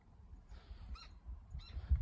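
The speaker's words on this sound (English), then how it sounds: "dang birds." Birds call outdoors beside a parked car in a quiet setting, giving two short bursts of high, chirping calls about a second apart over low rumbling background noise, with no talk.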